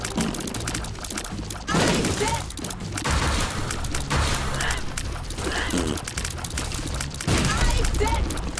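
A bomb goes off in The Binding of Isaac, a loud burst of noisy game audio with rumbling crashes that recur among busy game sounds, while a voice talks over it.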